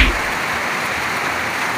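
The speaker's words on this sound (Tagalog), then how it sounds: "umuulan na yan" Steady rain falls on a roof at a pigeon race finish in Laoag, Ilocos Norte, a dense continuous patter with no voices.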